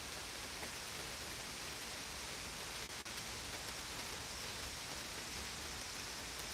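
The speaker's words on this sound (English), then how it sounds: "But rain's picking up." Rain falling during a thunderstorm in Pittsburg, Kansas, a dense steady hiss of drops that stays even and fairly loud from start to end, with no voices over it.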